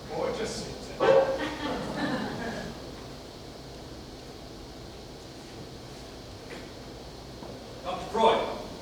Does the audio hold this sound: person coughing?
no